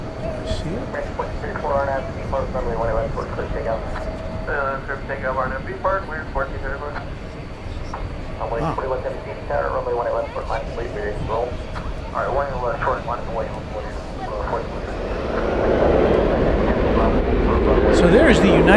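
A United Boeing 737 airliner waits about twenty minutes at DFW Airport at night, then starts its takeoff run; a low broadband engine roar swells near the end, with steady talk running over it throughout.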